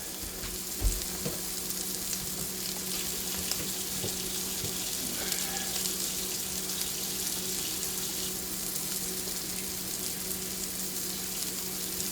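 Water running steadily from a kitchen sink tap while hands are washed, a continuous hissing flow with faint splashing and small clinks, no talking.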